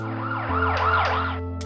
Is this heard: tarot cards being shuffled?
no